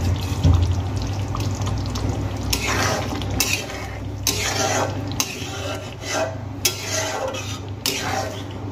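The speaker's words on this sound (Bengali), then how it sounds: "ফ্রেশ ক্রিমগুলো আমি খুব ভালো করে মিশিয়ে নিয়েছি।" Fresh cream being stirred in a pan for a Hariyali egg curry, a spoon scraping and clinking against the metal in repeated rhythmic strokes, close and fairly loud.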